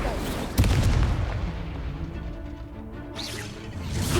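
The Incendio fire spell cast in the Hogwarts Legacy video game during a hard-mode battle, heard as a booming blast followed by a rumbling, crackling fire burst over dense combat noise.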